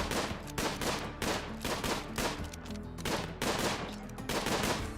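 Rapid bursts of gunfire from colonists shooting in the RimWorld video game, a dense run of repeated cracks in quick clusters, loud and close with no voices.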